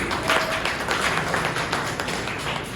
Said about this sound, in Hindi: एक जोरदार ताली इसके लिए।